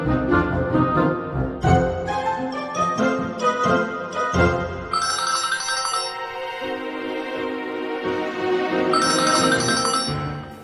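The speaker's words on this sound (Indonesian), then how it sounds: "Sekarang gue telepon, handphonenya pas bunyi lagi." A mobile phone ringtone plays a melodic electronic tune of repeating notes for about ten seconds, clear and fairly loud, with no speech over it.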